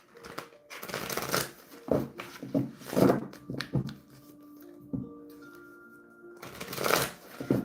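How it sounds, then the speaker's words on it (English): A tarot card deck is shuffled in repeated riffling bursts, close and crisp, several quick runs separated by short pauses, with a soft voice heard briefly between them. "One more shuffle for Val."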